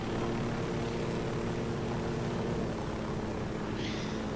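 A steady, droning engine roar from an airplane in the video game Ghost Recon Wildlands holds at constant loudness, with a brief rising whoosh near the end and no talking.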